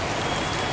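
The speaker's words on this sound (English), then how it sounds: "We are so wet because of the rain." Rain falls steadily outdoors in Hanoi during the rainy season, a dense, close hiss of drops spattering on surfaces that continues evenly throughout with no voices.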